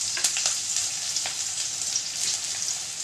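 Chopped onions frying in hot oil for a potato and chana curry, a steady close sizzle with faint crackles and stirring, no voices.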